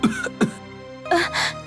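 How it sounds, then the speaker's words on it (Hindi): A king coughs loudly in a storybook palace scene, two sharp harsh bursts followed by a longer, rougher fit of coughing, close and alone without other voices. "राजा जोर से खांसने लगता है।"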